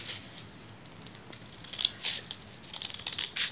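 Thin paper strips snipped with scissors in a row of quick, crisp cuts that start faint and grow sharper and louder toward the end, with no talk over them.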